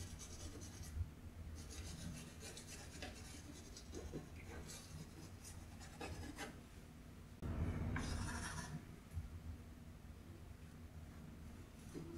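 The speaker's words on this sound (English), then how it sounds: "And just rub it in with the palette knife." A palette knife rubs oil paint into canvas with soft, quiet scraping strokes, and one stroke stands out louder partway through.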